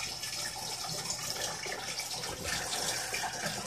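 Water rushes steadily through the overflow of an aquarium sump on a breeder tank, a constant close, dense gurgling hiss with no pauses and no voices.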